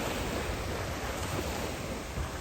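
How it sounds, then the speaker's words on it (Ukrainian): Atlantic Ocean surf at Long Island, New York gives a constant, dense wash of waves and wind noise, loud and even throughout, with no voices. "Це перед вами Атлантичний океан, Лонг Айленд, Нью-Йорк."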